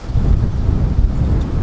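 Strong wind buffeting a microphone outdoors at a picnic area during a motorcycle ride near Big Bear, a loud continuous low rumble with gusty fluctuations throughout.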